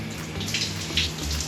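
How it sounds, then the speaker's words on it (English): Shower water runs steadily in a bathroom in Singapore, a constant hiss and patter of spray at moderate level with no voices. "this is the final shower before we go"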